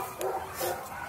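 A puppy gives a couple of quick, high yips or short barks close by, brief and sharp over a light background hiss.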